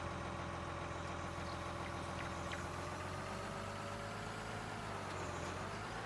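Farming Simulator 19 tractor pulling a corn planter across a field, a steady, faint mid-pitched engine drone with a low rumble, unchanging throughout.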